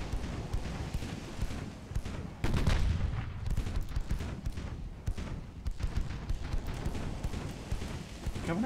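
Naval gunfire from a French protected cruiser's three guns in Ultimate Admiral Dreadnoughts, a dense run of rapid thudding shots and rumbling booms, moderately loud, with little talk.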